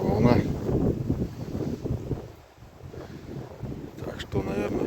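Wind gusts buffet the microphone beside a lake bay during a May fishing trip, with choppy waves lapping nearby; a voice speaks over the steady rushing noise.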